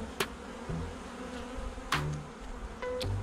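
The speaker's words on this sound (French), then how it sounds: "Petite abeille noire, normal, à cette époque." Black honey bees in a hive during a spring inspection, a dense close buzzing hum with a few sharper individual bee passes and light knocks, no talking.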